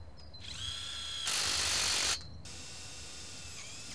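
Power tool driving a self-drill screw into polytunnel staging legs, a short loud whir lasting under a second, set between quieter mechanical clicks and ratcheting from a cordless driver.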